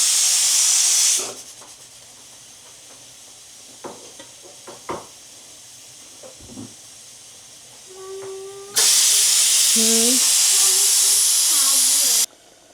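A pressure cooker holding cluster beans with peanut masala vents steam: a loud hiss opens and cuts off, soft kitchen clatter follows, then a long, loud steady hiss with a whistle-like tone runs for several seconds.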